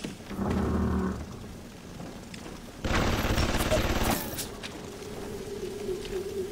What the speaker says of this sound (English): Nobody's shooting at me, are they?